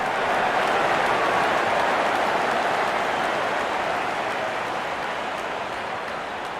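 A full-house cricket crowd roars and applauds a big six, a dense, steady wash of cheering and clapping that holds for several seconds and eases off slightly toward the end.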